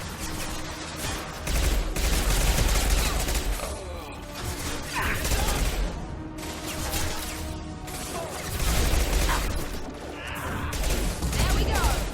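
Heavy sustained gunfire in Mass Effect 2, dense overlapping bursts with loud low thumps and ringing mechanical clatter, continuous throughout with shouted combat voices mixed in.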